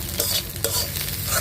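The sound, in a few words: chili and onion frying, stirred, on wood-fired stove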